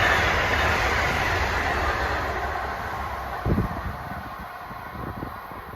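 Amtrak 42, the Pennsylvanian passenger train from Pittsburgh to New York, passing close in New Jersey: a loud, sustained rushing roar of rail cars with rhythmic wheel clatter and thumps toward the end.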